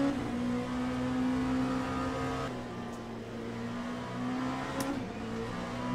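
Race cars in the Le Mans Ultimate racing game at Sebring drone steadily with a constant engine hum, a brief tyre skid and quieter revving rising and falling beneath, fairly faint throughout.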